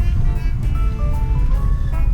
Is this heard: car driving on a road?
yes